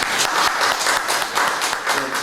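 An audience at a panel discussion breaks into a short burst of steady, dense clapping, close and fairly loud for about two seconds.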